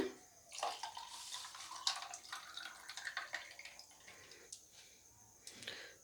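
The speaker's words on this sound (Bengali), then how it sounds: "এবারে দিয়ে দিচ্ছি জল এর মধ্যে" Water trickles and splashes into a bowl of mango pulp for aam panna, with scattered drips and light clinks of utensils, fairly close and soft.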